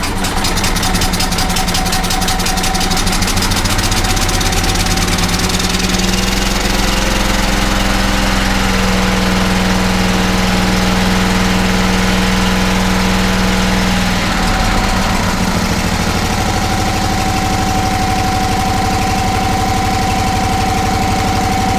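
A Hayter Hayterette lawn mower's small petrol engine, left unused for over two years, runs loud and close on choke, droning steadily with a brief shift in pitch partway through before settling back into an even running note.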